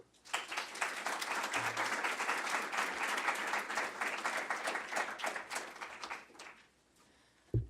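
An audience bursts into sustained applause to welcome a lecturer, Valerie Hudson, with dense clapping holding steady for about six seconds before tapering off into quiet.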